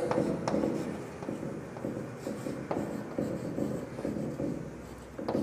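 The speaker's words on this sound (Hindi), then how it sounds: "तो यहाँ हम लिखते हैं बाई पाइथागोरस" Chalk or marker writing on a board during a Class X maths lesson on quadratic equations, a steady scratchy scribbling in short strokes that runs through the whole clip, close and fairly loud with no speech over it.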